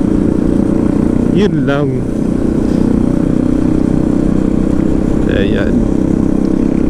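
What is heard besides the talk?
motorcycles riding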